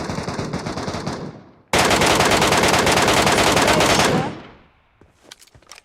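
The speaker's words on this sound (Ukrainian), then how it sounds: "Стріляй фулобойму в нього." Rapid automatic gunfire bursts loudly for a few seconds after a lighter stretch of shooting, then drops to scattered faint clicks and shots.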